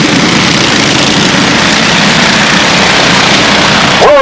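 Race car engines at a green flag restart at a short oval speedway, a loud, continuous low engine roar with dense broadband noise, a brief rising whine near the end.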